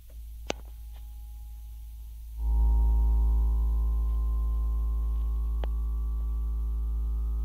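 A deep, steady synth drone swept slightly by an LFO-driven filter hums in after a short quieter stretch, thick with bass and slowly shifting in tone, no voices.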